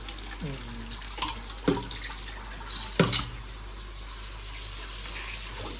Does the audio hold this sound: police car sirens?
no